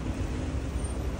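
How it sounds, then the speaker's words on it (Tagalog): Road traffic in heavy rain in Kuwait: a dense, steady wash of tyre and engine rumble with broadband hiss, continuous and close, no voices. "It's traffic."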